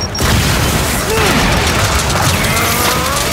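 A grenade blast in the Gears 5 Horde mode on the Icebound map, a loud booming explosion that hits hard near the start and then rumbles and crackles on with mechanical clatter, alone without talk.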